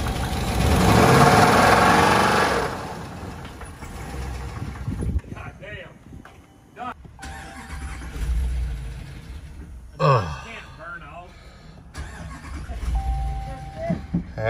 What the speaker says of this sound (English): It could be a rod knock or some sort of bearing knock as well.